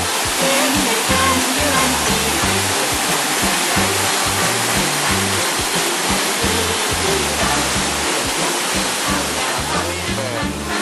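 A waterfall roars steadily and loudly, a dense, unbroken rush of falling water that fills the scene from start to finish.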